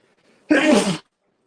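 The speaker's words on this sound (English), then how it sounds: "Hey, oh, I'm gonna sneeze." A single sharp sneeze from a woman with allergies during a casual after-gardening chat, loud and close, bursting out abruptly after a quiet moment and ending just as quickly.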